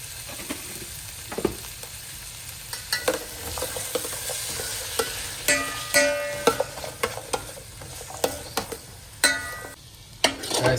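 Onions frying in a pan for Kerala-style beef curry, sizzling steadily while a spoon stirs and scrapes with irregular clinks and scuffs, close and fairly clear.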